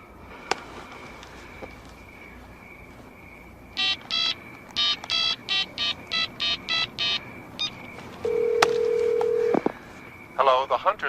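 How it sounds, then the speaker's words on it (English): Telephone being dialed: a steady dial tone, then a quick sequence of about a dozen touch-tone beeps, a long ring tone and a pickup click, with a voice starting at the end as the call reaches an answering machine. "Come on. Dial him up."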